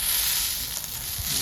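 Fish frying in hot oil with curry leaves on a wood-fired stove gives a steady, close hiss and crackle of sizzling, with a few soft bubbling pops underneath.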